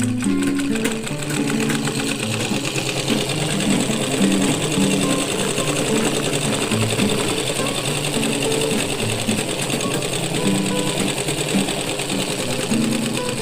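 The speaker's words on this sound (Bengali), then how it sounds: "এখন আমরা দেখুন এই যে মেশিন চলার সময় শুধুমাত্র এখন এই দেখুন" A sewing machine runs steadily after its loose needle bar has been tightened, a fast even mechanical chatter that continues unbroken throughout while someone talks over it.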